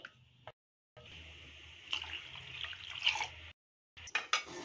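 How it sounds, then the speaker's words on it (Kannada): Water from a glass is poured into a pot of raw mango dal being cooked Andhra style, a steady splashing trickle that stops and starts again with brief clinks. "ಇವಾಗ ನಾನು ಇನ್ನೊಂದು ಗ್ಲಾಸ್ ಆಗುವಷ್ಟು ನೀರನ್ನ ಸೇರಿಸ್ಕೊಂತೀನಿ"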